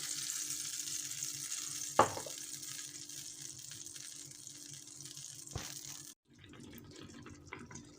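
Artichokes in olive oil and water cooking under a lid, a steady soft sizzle and bubble throughout, with a sharp clink of the lid and a brief knock before the sound drops and turns muffled.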